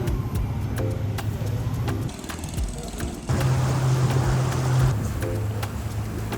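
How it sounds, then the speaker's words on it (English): A steady motorboat engine drones on the Amazon river, loud and continuous with water and wind noise, rising briefly in pitch partway through, no talk. "Now we got an hour boat ride."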